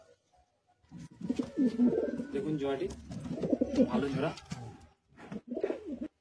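Pigeons coo in a Madrasi pigeon loft, soft repeated calls close by, running under a man's steady speech with brief pauses.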